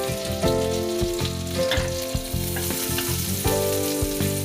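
Cumin seeds sizzling in hot butter in a kadai, a steady close crackling fry with occasional stirring scrapes, under a persistent tonal hum from a nearby appliance.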